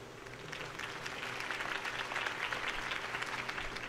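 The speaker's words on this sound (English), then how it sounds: "If only Mr. Wayne, my campaign's largest backer, could have heard that applause" In Batman: The Telltale Series, a crowd applauds after Harvey Dent's campaign speech, a continuous wash of clapping that swells gently and holds steady, heard at a moderate distance.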